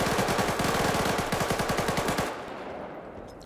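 A PKM machine gun fires a long rapid burst in a multiplayer shooter match, the shots evenly spaced and loud before cutting off into a fading tail.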